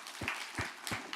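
Faint claps from a church congregation during a Sunday service come in a loose, rhythmic pattern of about three soft beats over a quiet, rustling background.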